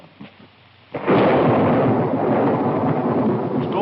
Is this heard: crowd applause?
no